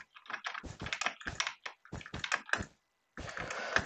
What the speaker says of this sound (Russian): Ой, блин, эта мышка так громко гремит.